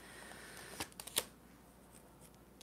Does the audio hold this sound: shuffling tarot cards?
yes